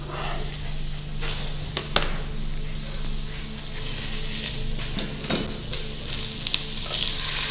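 Vegetables sizzle and fry steadily in a hot pan as they caramelize, a continuous close hiss with occasional stirring clinks and scrapes, and a voice speaks faintly at times.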